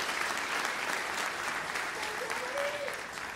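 Dense, sustained applause from an audience honoring high school choir and band students at a college concert, a steady wash of clapping with a brief voice calling out partway through.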